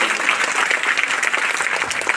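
A seated audience at a village Republic Day gathering claps steadily and enthusiastically for the sarpanch, dense sustained applause with no voice over it.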